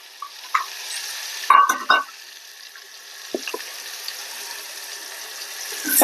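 Chopped onion sizzles in a pan of hot oil seasoned with cumin, salt and turmeric, hissing steadily and loudly up close while a spoon stirs and scrapes in a few brief bursts.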